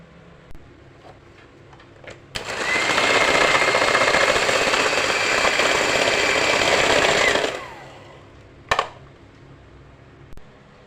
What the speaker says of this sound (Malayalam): ഞാനിതൊന്ന് ബീറ്റ് ചെയ്തെടുക്കട്ടെ നമ്മുടെ എഗ് ബീറ്റർ വെച്ചിട്ട്